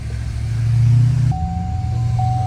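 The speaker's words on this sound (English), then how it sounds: "So now all that's left is to let the jack down and take it for a drive." A Duramax pickup truck driving after a new steering gearbox install, a low steady engine rumble heard from inside the cab, with a thin whine entering partway through.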